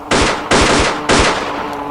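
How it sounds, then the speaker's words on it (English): Three heavy gunshot bursts in quick succession echo across a swamp in a dramatized firefight, each blast booming and ringing out with a long tail before the next. "Our gunshots echoed across the swampland"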